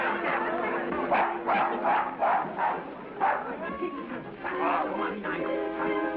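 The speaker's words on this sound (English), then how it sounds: "will you kindly take that dog out of the nonsense" A dog barks in a run of repeated yaps in an old Alfred Hitchcock film, heard amid background chatter and film music, with a mid-level, slightly boxy tone.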